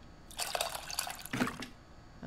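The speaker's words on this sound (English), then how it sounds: "It looks like I have to mix the tamarind with the water to extract its essence multiple times." Tamarind being mixed with water in a bowl in the cooking game Venba, heard as two short, soft bursts of splashing and sloshing liquid close up, with no talking.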